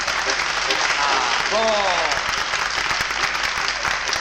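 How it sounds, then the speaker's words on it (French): A crowd at a tango dance performance gives sustained applause, dense and loud throughout, while a voice briefly speaks over it. "j'attends vos applaudissements."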